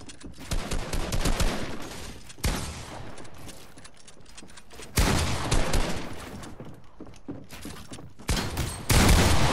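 Rapid gunfire from Fortnite, bursts of automatic and repeated shots coming loud and dense in several waves, with short lulls in between and no talking.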